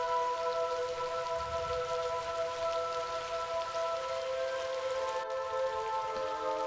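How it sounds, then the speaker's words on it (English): Steady rain falls in the indie RPG Just Beneath the Skin, a continuous broadband patter under loud sustained game music, with one brief dropout near the end. "whenever he shows up, it begins to lightning and rain."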